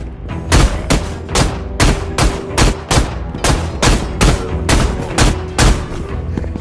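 Guns fire in the VR combat game Battle Talent, with a steady series of loud, sharp shots spaced roughly every half second and a faint tonal background between them. There is no talking.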